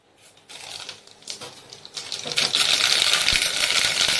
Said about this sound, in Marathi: मोहरी तडतड उडली की जिरं टाकायचा अर्धा चमचा